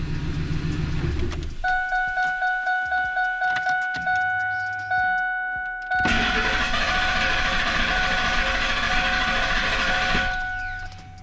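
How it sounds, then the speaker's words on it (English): A 2003 Ford F-150 with a hard-start problem is switched off, then cranked over several times before catching and settling into a loud, steady idle up close. "Now let me just shut it off real quick, start it back up, make sure it starts back up."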